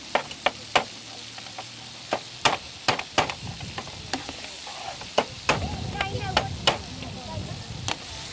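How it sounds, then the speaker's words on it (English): Raw crab claws are cracked with sharp hard knocks and dropped into a sizzling pan, a string of loud irregular cracks over steady frying hiss during a Wicklow Harbour seafood demonstration. "Got some crab claws here. Okay, these are not cooked. Just literally crack them and pop them in."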